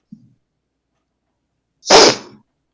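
A single sharp sneeze, close and loud, following a tiny faint click in otherwise silent surroundings.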